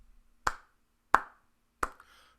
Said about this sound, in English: Here's what it sounds like if I clap a steady beat.